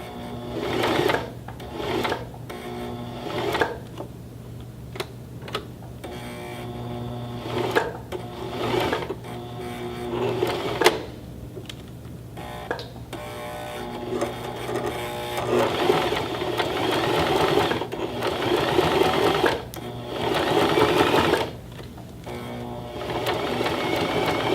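Sewing machine stitching a card case, running in short bursts of rapid mechanical whirring and thumping as it sews three stitches forward and three back, close and loud, with brief pauses between runs.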